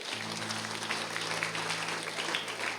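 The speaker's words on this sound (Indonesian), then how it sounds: "Tepuk tangan buat Tuhan." Brief burst of congregation clapping at an Easter church service, many hands applauding together over a low sustained keyboard chord.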